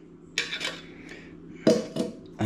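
A metal frying pan clanks twice onto a Fire-Maple Polaris camping stove, a couple of brief scraping, rattling knocks with quiet pauses between.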